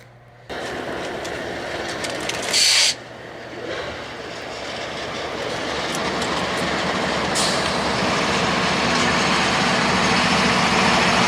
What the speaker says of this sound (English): the train is now going pretty slowly now